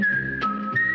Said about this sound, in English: Now that famous whistle has been silenced.